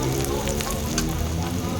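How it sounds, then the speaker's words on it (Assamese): Onion and dried chillies fry in hot oil, giving a steady, close crackling sizzle that holds evenly throughout with faint bubbling pops. "এয়া প্ৰথমতে পিঁয়াজ আৰু জলকীয়া অকণমান ভাজি লৈছোঁ"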